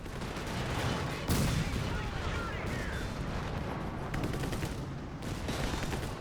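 Artillery fire rumbles through a World War II strategy video game battle, with dense overlapping booms and gunfire, a sharp louder blast near the start, all continuous and heavy.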